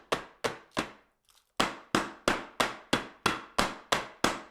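A cake tin holding the base of a no-bake cream cheese cake with cherries is tapped on a hard surface to level it. About eleven sharp, evenly spaced knocks ring out close and clear, with a brief pause after the third.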